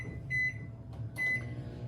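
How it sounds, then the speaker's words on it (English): A microwave oven melting candy hums steadily at low volume, with two short electronic beeps sounding over the running drone. "you should only do your microwave on half power"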